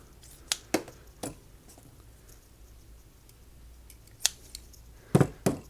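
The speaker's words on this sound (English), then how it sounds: "Cut the size that you want." Scissors snip tire patch material from a bicycle tube patch kit, a handful of sharp, close cuts spaced irregularly over a quiet background.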